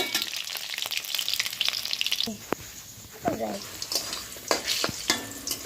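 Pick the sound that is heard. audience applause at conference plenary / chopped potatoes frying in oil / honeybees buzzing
chopped potatoes frying in oil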